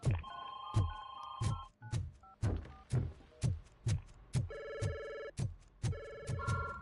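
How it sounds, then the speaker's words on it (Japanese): A telephone rings in the video game RoboCop: Rogue City with insistent electronic trills. Under them runs a rhythmic throbbing pulse, about two per second. The ringing is fairly faint and repeats in bursts, with no talk. "電話がうるさい。"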